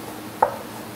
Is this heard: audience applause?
no